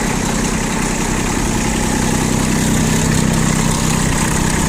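A Kubota ZB1-15 mini tractor with a three-cylinder engine idles close by, a loud, steady, even rumble with no change in revs and no talking.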